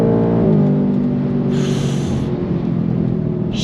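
A 2024 Ford Mustang GT in Grabber Blue accelerates hard on throttle, its V8 engine rising in pitch before a quick upshift, then pulling on with a loud, close rumble.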